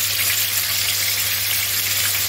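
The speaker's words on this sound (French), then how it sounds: "L'huile est chaude, je vais mettre mes tomates." Tomatoes hit hot oil in a pan for a tagine with meatballs and eggs, giving a loud, steady, close-up sizzle with no pauses.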